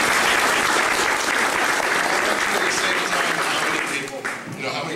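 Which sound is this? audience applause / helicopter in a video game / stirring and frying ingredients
audience applause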